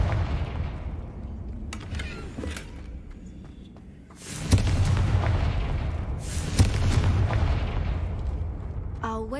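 A Confringo blasting spell goes off in a Harry Potter video game: two heavy, booming explosions a couple of seconds apart rise over a rumbling background, followed by a short crackle at the end.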